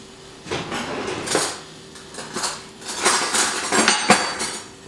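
Utensils clink and knock against a cup or pot as a hot apple juice drink is stirred, a series of irregular close metallic taps and scrapes.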